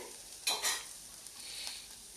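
Cashew nuts frying in oil in a pan for an Andhra mango and cashew curry, giving a soft background sizzle broken by a couple of quick stirring scrapes near the start, close and fairly quiet.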